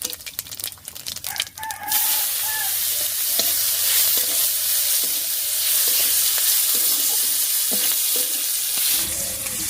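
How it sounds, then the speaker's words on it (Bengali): Chopped onion fries in oil with dry red chili, bay leaf, whole garam masala and cumin, a loud, even sizzle close by with repeated light stirring clicks, after a brief stretch of other clatter at the start. "ফোড়নের সঙ্গে পেঁয়াজটা বেশ লাল লাল করে ভেজে নিয়েছি।"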